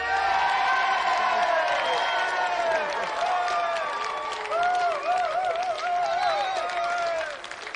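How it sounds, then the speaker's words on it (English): A television studio audience applauds and cheers for guest Tony Daley on the GamesMaster game show, with dense, loud clapping, whoops and shouts sustained throughout before easing slightly at the end. "let's have another round of applause for Ben McCluskey and our special guest"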